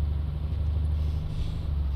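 A truck tractor with trailer coasting along a highway in Euro Truck Simulator 2, a steady low engine and tyre rumble with no throttle, heard close and continuous.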